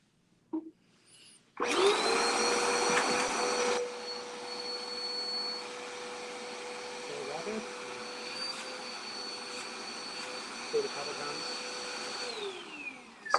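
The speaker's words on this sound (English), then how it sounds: "So you turn the vacuum on." A vacuum cleaner switches on with a loud whine and steady roar, running continuously nearby with brief bumps and clatter.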